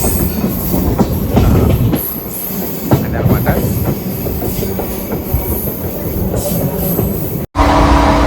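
A passenger train between Puttaparthi and Bengaluru clatters loudly over rails, with squealing wheels and uneven clanks as it crosses points; a brief voice speaks near the end.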